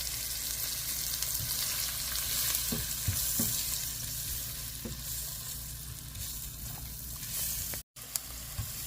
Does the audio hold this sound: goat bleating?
no